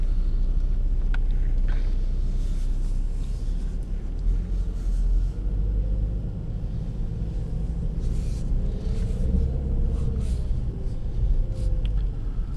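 A 2014 Ford Fusion EcoBoost pulls away on a test drive, heard from inside as a low steady engine and road rumble with faint creaks and tire noise, no one talking.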